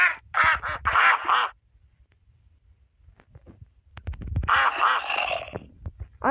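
Quacking from a duck in the game Minecraft comes as a rapid run of nasal quacks, then a quiet pause with faint thumps, then another longer burst of quacks near the end, fairly close and clear with no talk.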